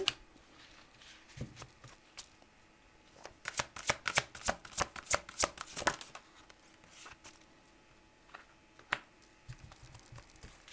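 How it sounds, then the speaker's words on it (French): Tarot cards are shuffled in a quick run of sharp, riffling flicks at close range, followed by softer handling and a single card being drawn, with a quiet room behind. "Je vous tire une carte conseil avec le dragon"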